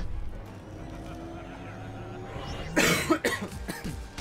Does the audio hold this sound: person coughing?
yes